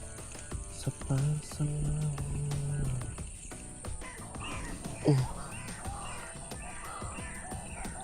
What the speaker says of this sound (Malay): Bunyi burung ayam banyak gila.